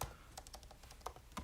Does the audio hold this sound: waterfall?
no